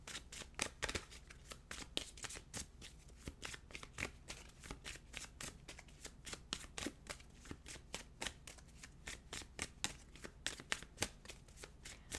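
Tarot cards are shuffled nonstop, with a rapid, even patter of riffling slaps and flutters that stays close and steady throughout, and no voice is heard.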